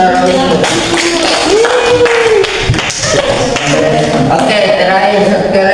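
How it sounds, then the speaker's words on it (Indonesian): Classroom applause for a student during an Arabic language teaching lesson: a steady burst of clapping from a group of students that runs the whole length, with a teacher's voice speaking over it. "Tepuk tangan untuk saudara ini."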